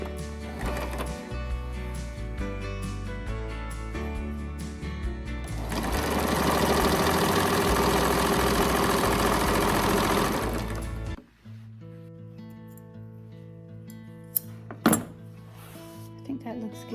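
A sewing machine hems the bottom edge of a dress sleeve, running in a steady, loud mechanical burst for about five seconds, with quieter handling clatter and some brief knocks before and after.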